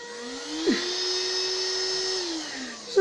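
A household vacuum cleaner switches on and its motor spins up to a steady, close, loud whine with a low hum that holds to the end, with no talk over it.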